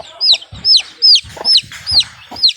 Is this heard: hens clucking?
yes